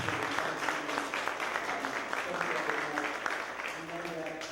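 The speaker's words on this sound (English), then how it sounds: "Let's give him a round of applause." An audience applauds at a roundtable gathering of community leaders in Orlando: steady, dense clapping with a voice speaking over it.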